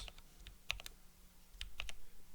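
Quiet, sparse keystrokes on a computer keyboard, a few scattered clicks then a short quick cluster, faint and close with no voices.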